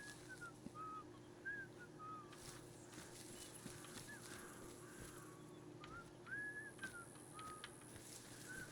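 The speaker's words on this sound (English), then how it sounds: "I hear the whistling" Faint melodic whistling drifts through a hedge maze in the video game Atomfall, short rising and falling phrases repeating quietly over a low humming ambience with soft scattered ticks.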